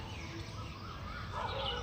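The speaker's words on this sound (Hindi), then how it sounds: "आप लोगों को कोयल की कूक सुनाई दे रही होगी।" A koel calls outdoors in early-morning surroundings, its faint whistled notes rising over a steady bed of background noise, with no talking.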